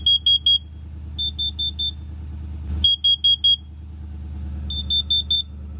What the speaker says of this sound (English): the Kidde smoke and carbon monoxide alarm, that went off before any of the others